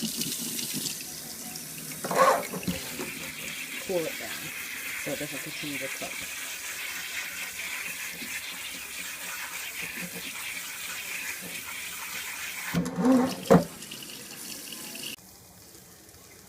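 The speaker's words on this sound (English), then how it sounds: "I just poured the kale into this strainer, and I'm just going to turn on the cold water," Cold tap water runs steadily into a strainer of cooked kale in a kitchen sink, a continuous close rushing flow under a person talking, with a few brief clanks near the start and end before the flow stops.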